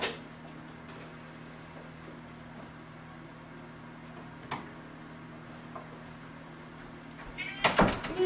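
A cat meows in a home kitchen, the call coming as a brief burst near the end over a low, steady room hum with faint ticks and clatter.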